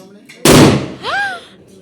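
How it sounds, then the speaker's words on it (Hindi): A firecracker goes off at a pahadi wedding, one sharp loud bang close by that decays quickly, followed by voices reacting right after. "चलो भाई पटाखा हो गया"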